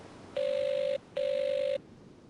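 Two touch-tone dialing beeps of equal length from a telephone in the Agatha Christie: Evil Under the Sun PC game, clear and steady with a short gap between them.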